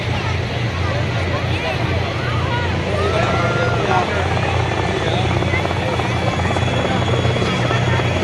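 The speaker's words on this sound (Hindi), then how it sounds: "Heralding the parade and showering flower petals, the Indian Air Force Mi-17 one-way helicopters." Indian Air Force Mi-17 helicopters fly overhead at a Republic Day parade rehearsal, their steady rotor roar filling the air while a crowd murmurs underneath.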